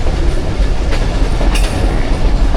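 The 13 UP Awam Express rumbles steadily along the line between Rawalpindi and Attock, a continuous loud train-running roar with low wheel-and-rail rumble throughout and faint clicks layered on top.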